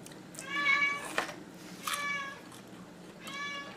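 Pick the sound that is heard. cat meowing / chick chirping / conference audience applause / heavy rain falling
cat meowing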